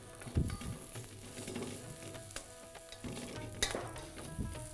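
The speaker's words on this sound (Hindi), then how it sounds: "ये भुनाई ज़रूरी है साहब, यहाँ पर अगर आप भून लेंगे तो सूखी रहेंगे" A spoon stirs and scrapes through spiced mirchi vada filling as it roasts dry in a pan, with a soft sizzle and irregular scraping strokes at close range, no voices.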